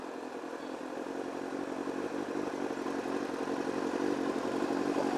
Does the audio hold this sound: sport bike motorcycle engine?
yes